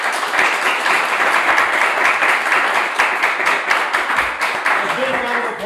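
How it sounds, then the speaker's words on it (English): Loud, dense applause from a conference audience for a panel, many hands clapping continuously, with a voice emerging near the end. "If I could, a round of applause for our panel"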